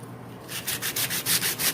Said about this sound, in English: right now, I think I need to sandpaper this